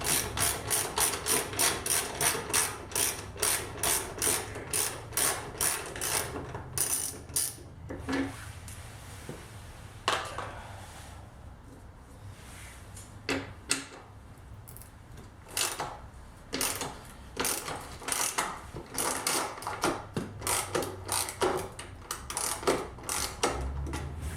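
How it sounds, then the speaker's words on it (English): A hand ratchet backs out the sissy bar bolts on a Harley-Davidson Low Rider S, sounding as rapid bursts of close, crisp clicks with short quiet pauses between strokes. "let me go ahead and get this sissy bar taken off"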